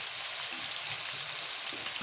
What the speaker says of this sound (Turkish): Soğanlarımızı da biberlerimizin yanında güzel bir şekilde kızartalım.